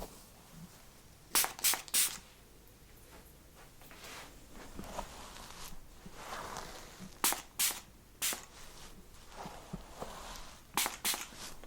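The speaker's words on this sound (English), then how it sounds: "Just gonna start out with some detangling spray." Several quick bursts from a detangling spray bottle onto hair, hissing in clusters of two or three with pauses between, close and crisp.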